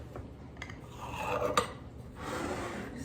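A knife slices pastry into strips for a Nutella snowflake, making a few quiet scraping strokes against the board with short soft taps, close and fairly faint, with no talking.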